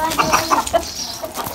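Aseel and desi chickens cluck close by in a rapid series of short, sharp calls, loud and clear with no talking over them.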